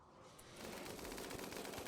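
Minigun fire in the video game Rimworld with Starship Troopers arachnids: a dense, continuous rattling burst that swells after a quiet start and stays steady, faint overall.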